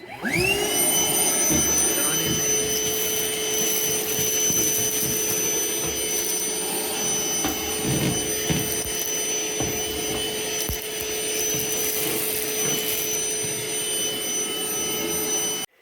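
A Milwaukee shop vac runs steadily at close range while cleaning a 100-watt laser machine, giving a loud, continuous motor whine with airflow hiss throughout and occasional thumps and rattles of debris being sucked up.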